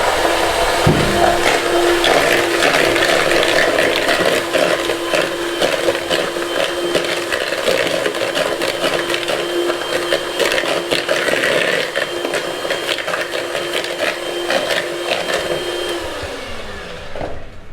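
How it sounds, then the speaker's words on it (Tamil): An electric whisk beating butter and sugar in a bowl, a loud continuous motor whir with scraping of the beaters, running steadily throughout and winding down at the end. "எப்போவுமே இந்த எலக்ட்ரிக்கல் விஸ்க் நீங்கள் யூஸ் பண்ணும்போது ஸ்டார்டிங்கில் வந்து ஸ்லோ ஸ்பீட்லேருந்து ஸ்டார்ட் பண்ணுங்கள்."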